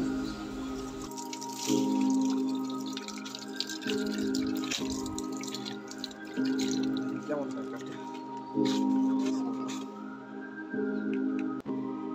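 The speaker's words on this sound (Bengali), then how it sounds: "এখন পেয়ারাটা ভালোভাবে ধুয়ে নিব" Water drips and splashes while a ripe, freshly picked guava is rinsed by hand, with soft wet squishes and trickles close by over a steady background tone.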